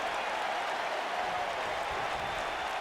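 Steady roar of a wrestling arena crowd in the WWE 2K video game during a Tozawa versus Oney Lorcan match, a continuous dense wash of cheering and applause with no distinct voices standing out.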